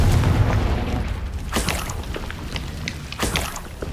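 A Confringo blast spell goes off in the Hogwarts Legacy video game, giving a loud, full booming rumble with two sharper impacts spaced a couple of seconds apart, and no talking over it.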